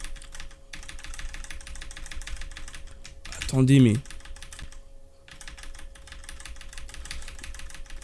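Rapid clicking of a Keyz Rubidium mechanical keyboard runs throughout, close and steady, briefly interrupted by a short spoken remark.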